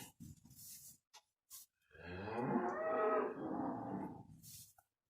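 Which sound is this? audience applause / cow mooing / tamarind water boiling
cow mooing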